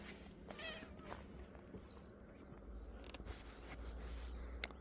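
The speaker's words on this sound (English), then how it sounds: "I'm going to have to stop this and give Glitter Kitten a bit of a scritch." A cat meows near a garden greenhouse with a few quick rising calls early on, faint and close, over quiet outdoor background noise with soft rustles and a brief click near the end.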